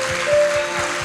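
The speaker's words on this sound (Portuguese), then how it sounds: "Vamos bater palmas." Church congregation clapping hands in steady rhythmic applause, about five claps per second, with a sustained background tone and faint murmur.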